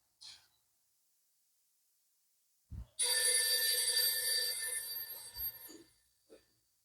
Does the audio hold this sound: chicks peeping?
no